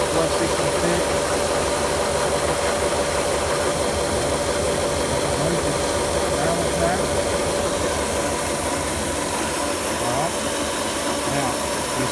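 Electric motor unit running at a steady hum with a constant mechanical drone and faint hiss, loud and unbroken throughout, with some speech mixed in.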